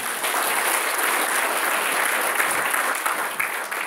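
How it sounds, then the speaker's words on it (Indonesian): Applause from an audience at a talk on meditation fills the whole few seconds. It is a dense, even wash of many hands clapping at a steady level, with no voice over it. "boleh tepuk tangan dah"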